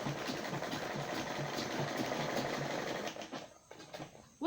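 A sewing machine stitches a French seam on denim with a steady rapid whir and needle chatter, close by, then slows and stops near the end.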